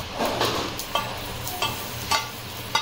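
Mustard seeds spluttering in hot oil, a loud dense crackling sizzle close by with a few sharper pops and stirring scrapes, no talking.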